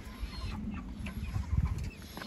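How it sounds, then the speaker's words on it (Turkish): A black hen clucks softly in short low bursts close by, with faint outdoor background noise and no talking. "Bak şimdi bak, kara tavuk."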